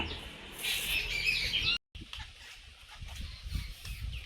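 Birds call in the trees with bright, high chirps and tweets in a flurry over the first couple of seconds, then fainter scattered calls amid soft background noise.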